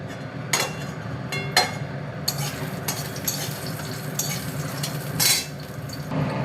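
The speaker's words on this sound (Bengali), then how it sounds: "কড়াইতে তেল গরম হয়ে গেছে, এবারে আমি অল্প কয়েকটা বড়ি ভেজে নেব।" Bori, small lentil dumplings, frying in hot oil in a wok, a steady close crackle with occasional sharper clinks and scrapes of a utensil against the pan, no talking.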